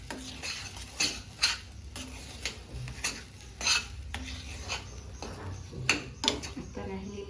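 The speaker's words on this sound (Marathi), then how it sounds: "छान याला परत एकदा मिक्स करून घेऊया." A sweet dish flavored with cardamom powder is stirred in a metal pan, with intermittent spoon scrapes and clinks at an uneven pace, close by, over a faint background murmur.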